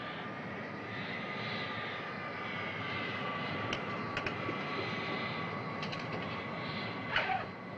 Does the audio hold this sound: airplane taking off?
yes